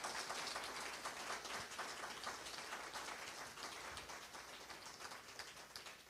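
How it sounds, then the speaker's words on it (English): An audience applauds panelists at the close of a foreign relations council panel discussion. The clapping comes as a soft, continuous, rain-like patter heard from a distance, with no voices. "Please, can we give them a round of applause again?"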